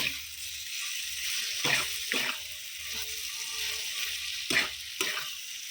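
Black cumin seeds and dried chili sizzling as they temper in hot oil in a pan for a paneer dish, a steady bright crackle with a few sharper spits and stirring clinks over it.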